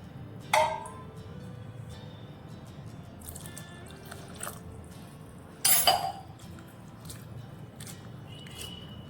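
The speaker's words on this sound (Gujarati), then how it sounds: "મગમાં પણ આપણે ગરમ પાણી નાખીને ધોઈ લઈશું." Sprouted moong beans swished and rinsed in warm water nearby, with soft wet sloshing and two brief louder splashes.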